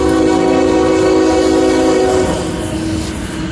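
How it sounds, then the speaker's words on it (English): A freight train and an Amtrak passenger train pass together, a loud sustained horn chord sounding over the heavy rumble of railcars, the horn cutting off near the end while the rolling rumble continues. "Here is a freight train and the Amtrak train."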